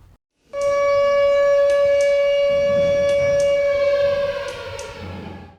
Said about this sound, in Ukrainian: Це прилад сучасної системи оповіщення людей у випадку повітряної тривоги.